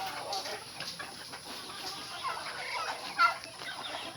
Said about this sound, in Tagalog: Napakadaming manok